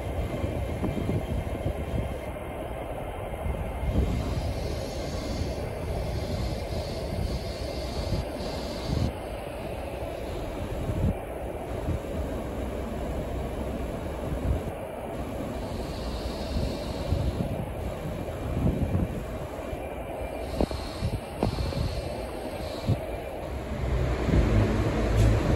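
A train arriving from Norwich at a station in Liverpool, heard as a steady, fairly loud rolling rumble with wind noise and occasional clicks throughout, with no voices.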